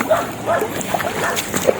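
A dog gives a few small, light yips and barks at a moderate distance against outdoor background noise.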